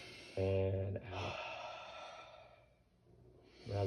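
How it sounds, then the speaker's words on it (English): Slow, breathy open-mouthed exhales from a person doing a breathing exercise during lung auscultation, a long airy outbreath in the middle followed by another starting at the end, with a voiced sound near the start. "on your exhale, I want you to breathe like this. So like you're fogging up some glass"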